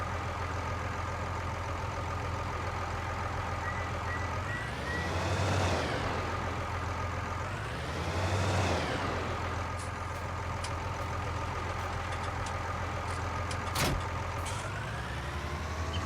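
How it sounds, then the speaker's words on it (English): A standard tractor engine in Farming Simulator 19 drones steadily at idle, with two smooth swells in revs partway through and a faint click near the end. "This is a standard in-game tractor."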